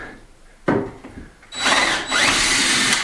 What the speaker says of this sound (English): No, I'm going to drill it first, because it almost split then.